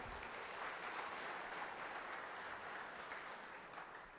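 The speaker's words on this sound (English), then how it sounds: "Round of applause." A university orientation audience gives a round of applause, a steady, dense patter of many hands that sounds fairly quiet and distant and tapers slightly toward the end.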